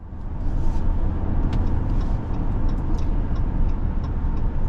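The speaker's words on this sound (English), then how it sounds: "we're out on the road in this brand new 2025 Ram 1500 Laramie Crew Cab 4x4" A 2025 Ram 1500 Laramie Crew Cab 4x4 pickup cruises down the road, giving a steady close-up rumble of engine and tire noise with light ticking rattles scattered throughout, and no one speaking.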